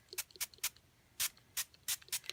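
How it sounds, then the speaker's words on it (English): A regular spray bottle of water is squirted in a quiet room, with about eight short hissing bursts coming in an uneven rhythm, close and fairly soft. "This is a regular spray bottle of water."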